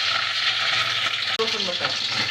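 Ginger paste hitting hot mustard oil in a heated pot, a steady dense sizzle with a brief dip and fresh crackle partway through, close and loud with no talking.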